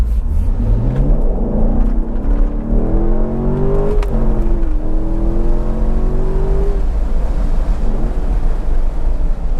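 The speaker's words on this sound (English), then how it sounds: "sorry for the extra wind noise on this pull, but I had to take the Targa roof off" C7 Corvette accelerating hard with its Targa roof removed, engine note climbing through rising pulls and a gear change, loud and close over constant heavy wind rush.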